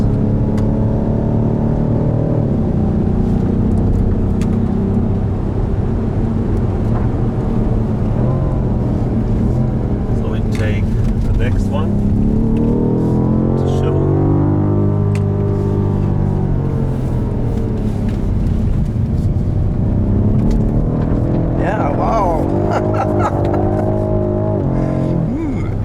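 A BMW M5 Competition F90 in four-wheel-drive sport mode lapping the Nordschleife with stability control off, its engine droning steadily and rising and falling in pitch through revs and gear changes, heard from inside the car for the whole stretch.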